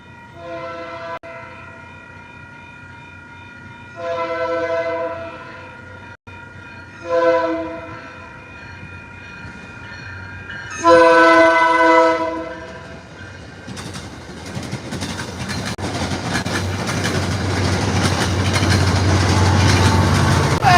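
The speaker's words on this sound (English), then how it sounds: "We got a train, guys. The inbound." An inbound train's horn blasts in several separate bursts, the last one longest, then a heavy rumble builds as the train rolls closer and passes.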